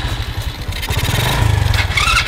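A small mini motorbike ridden in a short race-style run, its engine putting out a steady low chugging drone with a rising rev near the end, close to the recorder.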